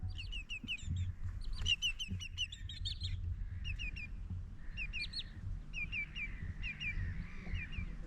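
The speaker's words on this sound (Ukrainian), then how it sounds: "мартини, чайки." Gulls call repeatedly over the dry bed of the former Kakhovka Reservoir, a series of short, sharp, yelping cries in clusters from several birds at moderate distance, over a steady low rumble of wind.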